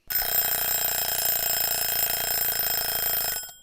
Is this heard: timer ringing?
yes